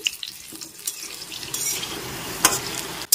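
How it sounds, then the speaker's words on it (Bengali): Potatoes sizzle and crackle in hot oil in a frying pan while being stirred. The sound carries irregular scrapes and clinks, with a few sharp utensil knocks toward the end. "আলুগুলো নেড়ে চেড়ে একটু ভেজে নিচ্ছি"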